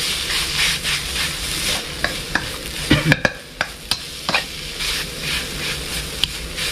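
Frog stir-fried with red curry paste in a hot pan, a steady close sizzle punctuated by sharp clacks and scrapes of the spatula, several in quick succession midway.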